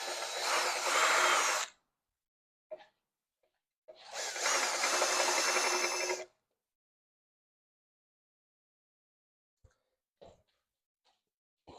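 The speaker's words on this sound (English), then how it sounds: "Just deburring it a little bit." A power tool whirs through two bursts of about two seconds each while deburring a cut metal part for an e-bike motor install, with faint taps and handling noises in the quiet gaps.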